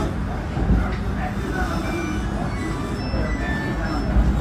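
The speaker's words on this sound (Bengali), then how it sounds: "তো আমাদের ট্রেন ছেড়ে দিয়েছে" Howrah–Bhagalpur Vande Bharat Express 22309 running, with a steady low rumble and rolling rail noise heard from inside the coach, continuous and fairly loud, with faint murmured voices beneath.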